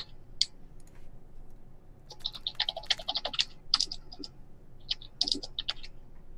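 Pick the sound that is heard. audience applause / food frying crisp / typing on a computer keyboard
typing on a computer keyboard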